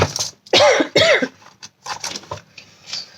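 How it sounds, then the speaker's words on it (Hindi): Several harsh coughs burst out in quick succession, close and loud, followed by softer throat-clearing sounds. "मेरी खांसी मुझे अलाउ नहीं कर रही है"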